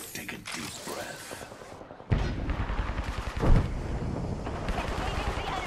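Video game gunfire, quieter shots at first, then a loud sustained volley with a heavy blast in the middle, with a voice speaking over the shooting.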